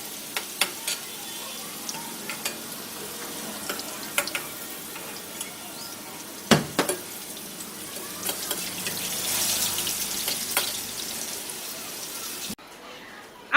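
Potatoes frying in oil in a pan, a soft continuous sizzle broken by scattered clicks and utensil knocks, with a louder shuffle midway and a brief quiet stretch at the end.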